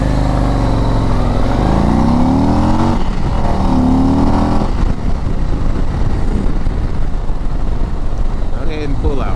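A 2023 Harley-Davidson CVO Road Glide V-twin engine, loud and close, rising in pitch as the bike pulls away under steady wind rush, then settling into a rough rumble.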